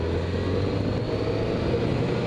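Motorcycle rolling at about 30 mph after light braking while bedding in new brake pads and rotors, a steady low engine and road rumble continuing evenly throughout with no talk.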